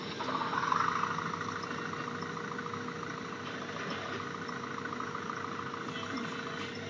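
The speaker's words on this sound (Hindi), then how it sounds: "चलो भग भग ट्रैक्टर भग" A tractor engine hauling a trolley in a farming video game idles and runs at a steady mid-pitched drone with a constant hum, close and unbroken, no voices.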